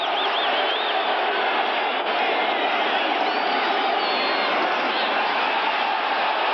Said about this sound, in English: Crowd getting into it once again.